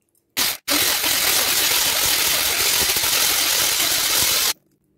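An electric mixer beats red velvet cake batter, its motor whirring loudly and steadily after a brief start. The whir runs for several seconds, then cuts off abruptly into silence.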